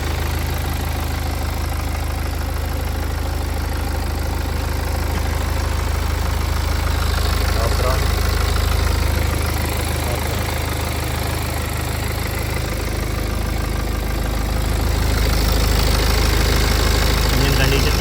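A 2015 BMW 320d diesel car idles with its bonnet open, a steady low diesel rumble and clatter running evenly and close for the whole stretch.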